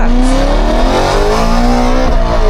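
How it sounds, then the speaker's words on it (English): A BMW E92 M3 with modified exhaust, tires and suspension lapping a race track, its engine note loud and continuous with rising and falling pitch as it accelerates and shifts, no voices. "let's just enjoy the beautiful exhaust sound of the E92 M3 in its final 2"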